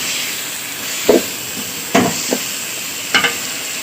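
Tomatoes sauté in a pan for cabbage kootu, a soft steady sizzle and hiss broken by a few brisk scraping stirs of a spoon against the pan. No one speaks.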